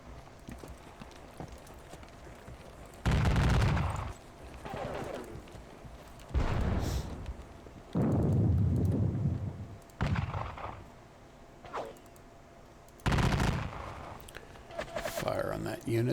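Massed musket or artillery volleys from units firing in a Battle of Dennewitz war game, heard as several loud bursts of booming, crackling fire spaced across the stretch, with softer rumbling between them.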